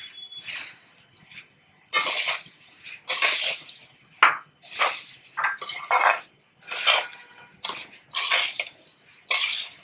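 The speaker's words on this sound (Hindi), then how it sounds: "अब ये भुजिया मिक्स कर लेंगे।" Bhujia is mixed into bhel puri in a bowl with repeated bursts of crisp rustling, scraping and light clinks, coming in uneven strokes separated by brief pauses.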